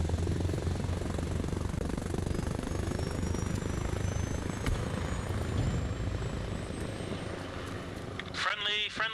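Attack helicopter in the Arma Reforger video game flying over an airfield, a loud continuous rotor and engine roar throughout with a faint rising whine, ending in a brief burst of tonal chatter.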